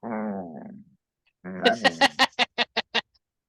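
A puppy makes a long low growl and falls briefly silent, then gives a rising run of short whimpering yips, about nine clipped cries in quick rhythm, close to the listener.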